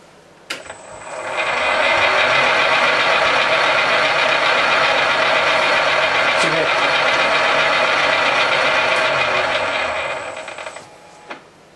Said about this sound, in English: Put the lathe in a nice slow gear, and I'll show you it working.